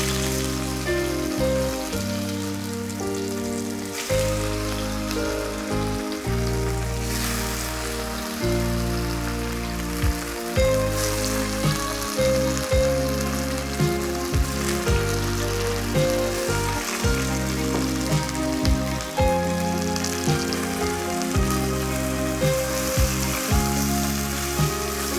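Pathrode (colocasia leaf rolls) fry in hot coconut oil with mustard seeds and green chillies, a steady, continuous sizzle and crackle running under background music throughout.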